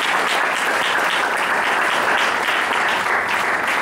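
A church congregation applauding, steady loud clapping filling the room throughout with no pause or speech.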